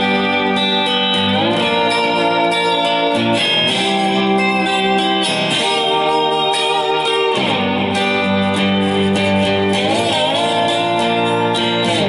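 Lap steel guitar played with the tone bar held the wrong way, giving loud sustained sliding chords that swell and glide between pitches, ringing continuously with no talk.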